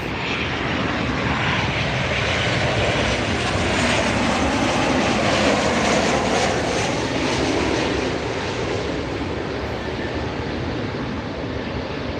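Steady, loud broadband roar of a jet airliner arriving at LAX airport, the engine noise sustained and close throughout with no talking.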